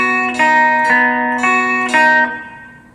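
A 4-string cigar box guitar picks a riff as four distinct plucked notes, each ringing with bright overtones before the last one fades out, played close and alone.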